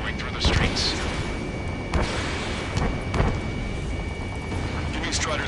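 Dense battle noise in the video game Ace Combat 7: Skies Unknown, with a constant jet roar, repeated booming gunshots and blasts at irregular intervals, and voices talking underneath.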